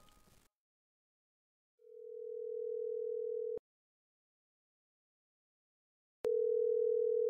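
A steady telephone line tone sounds twice on a recorded 911 emergency call, a fading-in hum that cuts off with a click and then returns, clear and alone.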